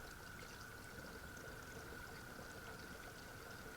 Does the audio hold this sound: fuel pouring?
yes